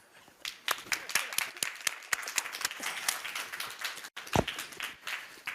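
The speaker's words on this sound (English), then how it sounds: "Feel free to applaud." A conference audience applauds at the World Economic Forum annual meeting in Davos, a burst of many hands clapping that swells and thins over several seconds, slightly distant, with a brief pause near the end.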